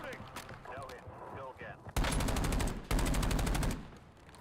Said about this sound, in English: the crack with the airstrike is awesome